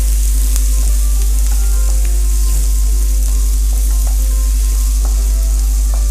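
Spinach pasta sauce cooking in a pan with a loud continuous sizzle and frying hiss, occasional stirring scrapes on top, close and steady with no talking.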